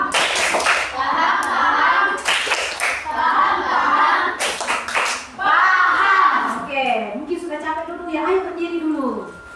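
Children in an Indonesian classroom perform a rhythmic clapping game, loud bursts of claps in patterned groups alternating with their chanted voices, close and lively.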